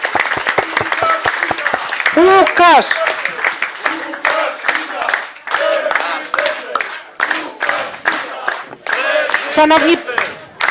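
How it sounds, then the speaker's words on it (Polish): Bursts of clapping and cheering from a crowd at an open political campaign meeting in Kraków, intermittent and mixed with someone speaking over the noise. "Wielkie brawa dla naszego kandydata na prezydenta"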